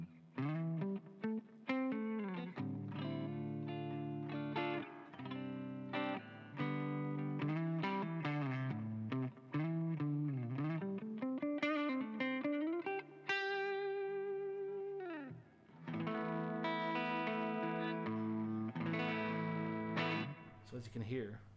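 Electric guitar played through the neck pickup of a 1997 Orville Les Paul Standard, a bright, cutting overdriven tone with lead lines and chords ringing out steadily and close, without any talk.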